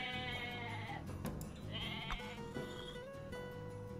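A goat bleats in the Age of Mythology strategy game, its wavering cries rising and falling over the steady in-game music and ambience, loud and close, with no talking.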